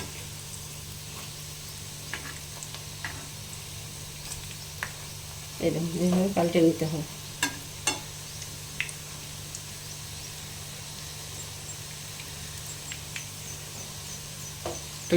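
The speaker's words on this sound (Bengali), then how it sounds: "দু পিঠে যেন লাল করে ভাজা হয়" Jackfruit fritters fry in oil with a faint, steady sizzle, broken by a brief louder burst of clatter as they are turned over; a person talks quietly over it.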